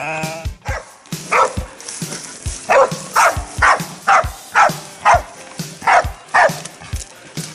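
Hunting dogs on a goat cull bark in a rapid regular series of loud, close barks, roughly two per second, with no one talking over them.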